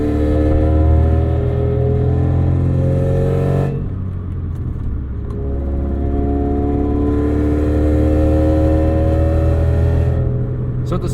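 A 1990 Acura Integra RS with 400,000 miles and an aftermarket exhaust revs loudly and up close. The engine's rumbling drone climbs in pitch, drops briefly, then rises again before easing off near the end.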